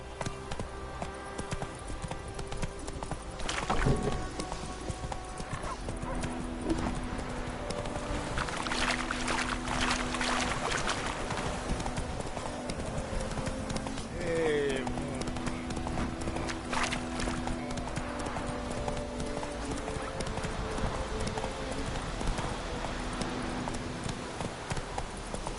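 Roach, the horse in The Witcher 3, gallops with steady clip-clop hoofbeats that run continuously throughout. Ambient game sounds and a faint neigh sit in the background.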